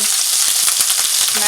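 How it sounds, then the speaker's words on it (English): Chicken tinga sizzles and splatters hard in a hot pan while a spatula presses and smashes it, loud crackling spitting with sharp pops throughout. "It's been cooking for a little bit, so I'm gonna go ahead, and with the spatula just start to try to"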